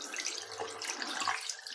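Hot water tap running in a holiday accommodation shower or sink, a steady broadband rush of flowing water close to the microphone with no talking.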